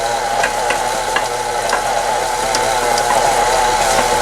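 Shredded carrots are worked into carrot cake batter in a mixing bowl, making a continuous wet, sloshing stir at close range without pause, with nobody talking.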